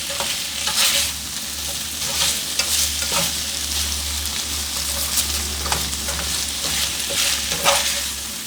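Honey-soy chicken frying in a pan, with a loud, constant sizzle and a low steady hum behind it and occasional scrapes of stirring.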